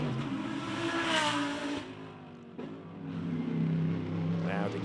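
Turbocharged Audi GT race car at the Macau Grand Prix GT Cup qualifying, its engine note rising and falling as it drives past, loud and close, with a commentator talking over it throughout.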